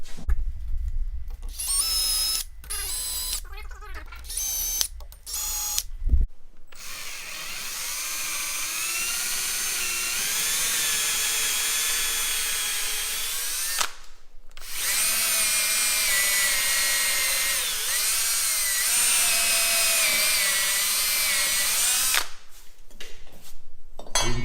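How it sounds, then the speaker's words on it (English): A power drill bores holes into oak for a custom metal staircase, whining at high pitch in a long sustained run after several short bursts, loud and close, with no voices. "We're just going to go ahead, get our holes drilled"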